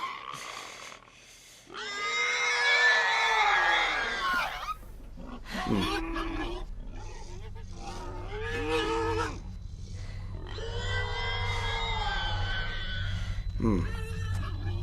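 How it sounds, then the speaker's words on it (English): A distorted, blended scream from The Last of Us Part II Remastered, Joel's cry merged with a boar's squeal, rises in several long, loud harmonic wails over a steady low rumble. "You can hear that Joel's scream infused with the boar."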